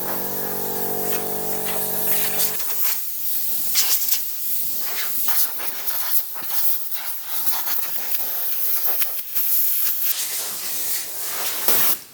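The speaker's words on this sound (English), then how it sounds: "just going to blow all the dust off" Compressed air from an air compressor blows dust off an off-grid truck being restored and painted: a loud, close, sustained hiss in repeated bursts after a brief steady mechanical hum at the start.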